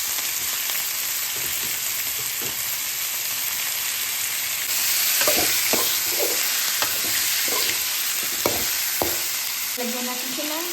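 Chicken frying in a pan with garlic, onion, pepper and salt, for a chicken with saluyot dish: a steady sizzle throughout, with sharp scraping and clanking stirs in the second half.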